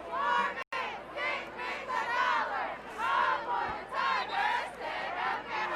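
A high school football crowd at a Troup versus Spencer game roars and yells continuously, loud and full-bodied from the stands, with overlapping shouts rising and falling in waves for several seconds.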